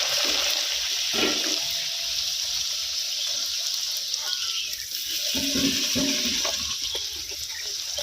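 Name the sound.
luchi frying in hot white oil in a wok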